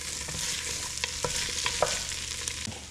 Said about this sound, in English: So let's stir this in and incorporate.